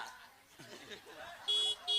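An ice-cream vendor's cart horn on a comedy stage gives two loud, close beeps near the end, after a stretch of voices and laughter.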